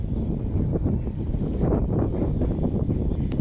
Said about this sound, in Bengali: আজকে অনেক বাতাস